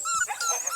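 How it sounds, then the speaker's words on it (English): Six-week-old beagle puppies whimper and yip up close, giving thin, high, wavering whines in short overlapping bursts, with a faint voice murmuring underneath. "I'm back here with some very cute little Dottie dogs"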